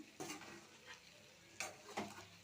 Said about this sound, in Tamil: நம்ம ஈரலை நல்லா எண்ணெயிலே வதக்கிக்கணும்